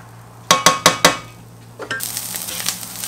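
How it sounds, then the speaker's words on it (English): Onion and jalapeno stirred in a heated pan: four sharp utensil clinks against the pan, then a steady soft sizzle and scraping as the vegetables cook, close and moderately loud. "toss in your onion and your jalapeno. Give it a good mix and just cook it until they're softened"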